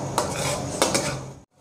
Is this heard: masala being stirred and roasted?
yes